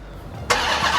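A 2021 Ram 1500 TRX pickup's Hellcat engine starts by remote starter, a sudden loud, sharp roar of ignition after a quiet moment, sustained through the end.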